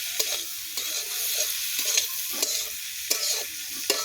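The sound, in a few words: stirring egg and potato bhurji frying in a pan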